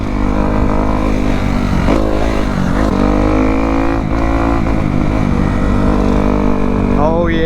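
A Kawasaki KX250F dirt bike engine revs loud and close during a wheelie, its pitch rising and falling in surges through a constant, buzzing roar.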